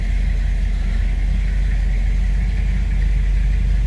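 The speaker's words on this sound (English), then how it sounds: "Let's go ahead and fire this up and get an idea how it sounds and runs" A 1959 Chevrolet El Camino engine runs at a steady idle, with a loud, even low rumble and constant mechanical hum close by. There is no talk.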